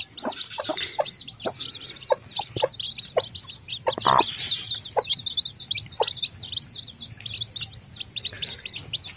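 Two hens, Bangkok and village chicken crosses, cluck in low, scattered bursts while twelve chicks cheep constantly and rapidly in the background, nearby and moderately loud.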